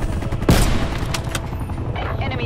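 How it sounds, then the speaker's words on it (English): A napalm strike bombing run in Call of Duty Black Ops Cold War, with a sudden loud blast about half a second in, then a dense rumbling roar of fire and scattered explosions continuing close by. "Enemy napalm strike incoming. Yeah, they bombed the fuck out of them."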